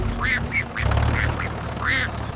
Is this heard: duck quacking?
yes